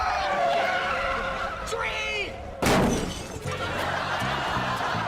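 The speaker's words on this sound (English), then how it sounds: "Drake wants to take it for a spin and crashes into a tree the second they leave his garage." A dune buggy on a TV sitcom crashes into a tree, a sudden loud smashing impact about midway, followed by rattling debris, with music and sound effects around it and voices underneath.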